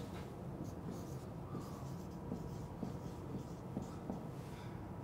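Someone writing on a classroom board during a physics lesson, a faint run of short, regular marker or chalk strokes in a quiet room.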